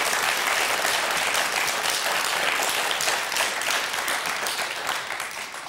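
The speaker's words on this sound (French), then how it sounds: "On va quand même vous applaudir." A French game show studio audience bursts into sustained applause for the contestants, a dense, loud wall of clapping that slowly tapers off toward the end.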